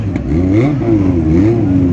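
A motorcycle engine revs at a bike festival in Tiradentes, Minas Gerais, rising and falling in pitch through several loud, close throttle blips over two seconds.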